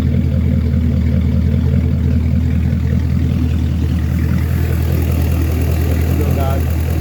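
A MerCruiser Gen 6 boat engine idles during its run-in, a loud, steady low rumble close by with a person speaking over it.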